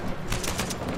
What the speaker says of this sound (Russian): Теперь мы сможем стрелять из автомата